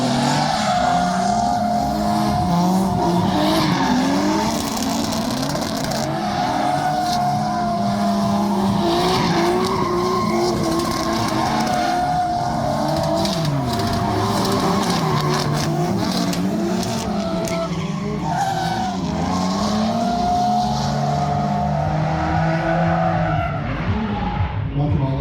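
Cars drift on an open plain, spinning donuts with long, continuous tire squeal and revving engines, loud and steady throughout, with voices talking underneath.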